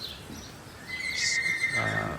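A 4-year-old horse whinnies during a thunderstorm, a rising then falling call that swells over steady background noise, with no talking.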